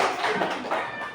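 A classroom of sixth-grade primary students clapping for a student group that just presented, a brief burst of dense, close applause.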